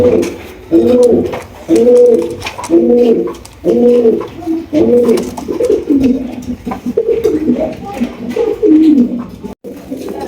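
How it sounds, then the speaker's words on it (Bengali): Giribaz high-flying pigeons coo loudly and close by, a pair sitting on two eggs in a breeding box, repeated rolling coo phrases in a steady rhythm with brief pauses. "এখানে রয়েছে একজোড়া গিরবাস বোতল হাই ফ্লাইং গিরবাস বোতল দুইটা ডিম নিয়ে বসে আছে"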